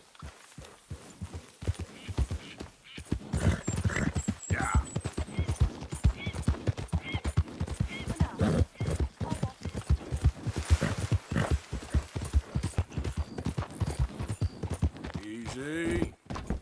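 Horse hooves clop in a quick, regular rhythm while riding in Red Dead Redemption 2, close and fairly loud throughout, with someone speaking over the hoofbeats and another voice near the end.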